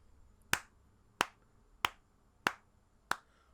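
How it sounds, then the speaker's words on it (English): Five sharp, evenly spaced hand claps, each a crisp isolated crack roughly two-thirds of a second apart, are made in a quiet room to sync the recording, with no talk between them. "I'm starting to clap right now."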